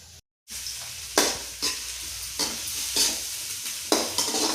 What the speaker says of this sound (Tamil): சை சை சைன்னு வதக்கிக்கலாம்